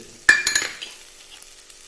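Tomatoes with coriander powder being sautéed and stirred in a pan for a jackfruit seed roast: a sharp spoon clank, then a few quick scrapes and a soft sizzle fading to near quiet.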